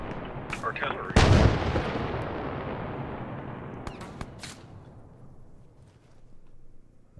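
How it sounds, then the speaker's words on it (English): A heavy artillery blast booms out in the Arma war game, followed by a long rumbling decay that fades over several seconds, with a few distant shots crackling and a voice briefly exclaiming. "Artillery."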